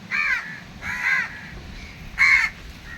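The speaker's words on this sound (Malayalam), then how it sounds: "കാക്ക" Crows cawing near the sea, three separate harsh caws spaced about a second apart, fairly close and clear over quiet background.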